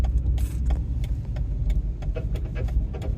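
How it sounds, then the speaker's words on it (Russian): A car engine runs with a loose, worn upper engine mount, giving an uneven low rumble broken by irregular knocking and rattling clunks close by. "Вот шум слышно? Вот, это верхняя подушка двигателя."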